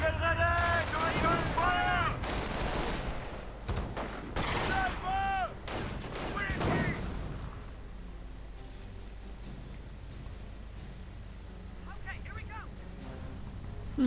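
Heavy bursts of mounted machine gun fire in a World War II strategy game boom loudly over the first seven seconds, with someone talking over them, then fade to a quieter rumble with sparse distant shots.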